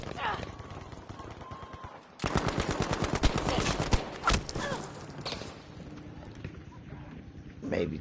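Battlefield V Conquest gunfire: a loud, rapid automatic burst in a tight rhythmic rattle, then a few separate sharp shots, with a voice talking faintly underneath.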